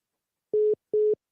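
Telephone busy signal after a caller hangs up on a phone-in line: two clean, evenly spaced beeps with silence between them, and a third starting at the end.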